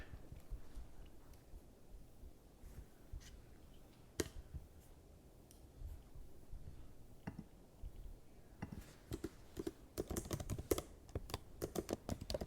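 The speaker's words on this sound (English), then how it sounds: "enjoy that typing sound while we wait" Quiet typing on a computer keyboard, scattered keystrokes at first, then quicker bursts of clicking toward the end, close by and faint.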